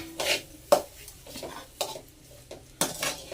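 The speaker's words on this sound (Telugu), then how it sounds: "వేసుకొని నీట్గా మిక్స్ చేసుకుందాం" A metal spoon scrapes and clinks against a pan while egg rice is stirred with pepper powder, giving a few sharp knocks amid softer scraping and rubbing, close and moderately loud.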